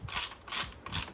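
A ratchet clicks in three quick bursts while 10mm bolts holding the two radiator fans are tightened on a 2007 Kia Spectra, each burst a close, dense run of pawl clicks with brief pauses between.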